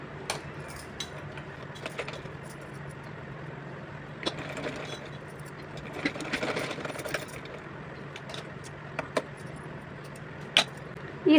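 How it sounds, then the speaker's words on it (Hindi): A sewing machine stitches fabric for a small Laddu Gopal outfit, with a steady mechanical whir and soft rattling clicks, close and fairly quiet, broken by a few sharper knocks near the end. "इस तरह से इस पर सिलाई लगा दिया है मैंने"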